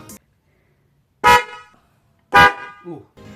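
A Denso Orion snail car horn gives two short, loud honks close by, separated by a pause, with brief voices murmuring around them.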